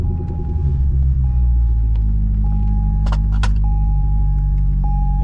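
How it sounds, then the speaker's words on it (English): Inside a Chevrolet C6 Corvette, the engine settles into a deep, loud idle rumble after starting, a steady low drone with faint chimes and brief clicks over it. "start the car."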